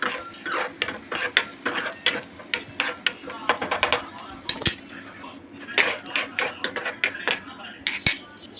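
Sesame seeds dry-roasting in a pan at home, giving rapid irregular crackles and sharp clicks close by, with scraping and stirring against the metal pan.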